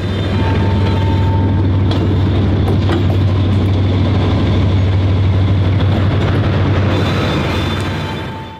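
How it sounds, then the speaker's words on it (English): A Lhoist B23-7 high-hood diesel locomotive, number 4021, switching cars at the Crab Orchard facility, with a loud, steady low engine drone and rail clatter running continuously before easing slightly at the end. "locomotive number 4021 can frequently be found switching cars at the Crab Orchard facility"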